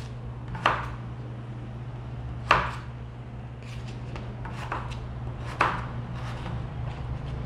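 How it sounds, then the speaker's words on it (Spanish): A knife chops a potato into small pieces on a board, with a few sharp, unevenly spaced cuts over a steady low background hum. "aquí como ven, estoy picando en trocitos"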